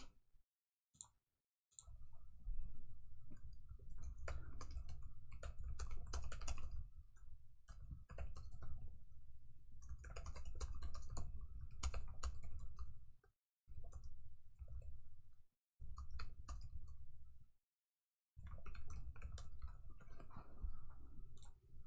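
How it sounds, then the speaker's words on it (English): Steady computer keyboard typing, close and moderately loud, runs in long bursts of rapid clicking separated by short pauses, with no speech over it. "Sorry if that typing was loud."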